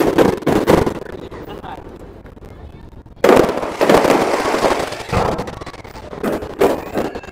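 New Year fireworks in Spain burst in dense, irregular volleys of sharp cracks and booming pops, some close and loud, others distant, with crowd noise and voices chattering between the blasts.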